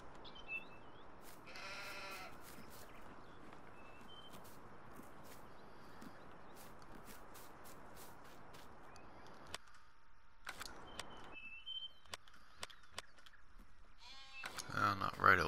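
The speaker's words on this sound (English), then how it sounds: "Here's our sheep." Merino sheep bleat in the farming video game Greenwich Valley, with a clear bleat early on and more bleating near the end over quiet background sound.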